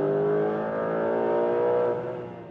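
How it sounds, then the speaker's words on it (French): Porsche 911 GTS Hybrid in sport plus mode accelerating hard, a loud, steady engine note that swells smoothly and holds close up before easing off slightly at the end, with no voices over it. "en mode sport plus, j'ai un peu plus de performance dès que j'appuie sur l'accélérateur"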